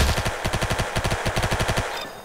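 A PPSh submachine gun in Roblox Arsenal fires one fast, steady burst of about two seconds, loud and close, with evenly spaced rapid shots and no talk.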